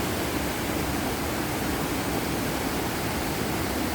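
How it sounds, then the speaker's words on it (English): Waterfall on Iceland's south coast, a steady, dense roar of falling water filling the whole clip at close range with no variation or other sounds. "we've found yet another waterfall"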